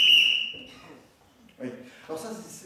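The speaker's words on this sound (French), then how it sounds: "donc l'arbitre il a sifflé" A referee's whistle gives one loud, sustained shrill blast that fades out, followed by a few seconds of people talking.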